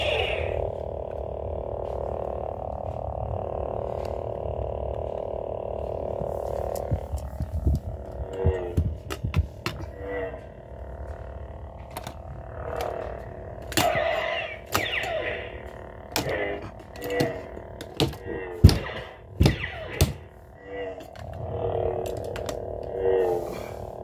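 A toy lightsaber hums at a low, steady level, with a series of sharp clicks and brief bursts layered over the drone, all heard up close.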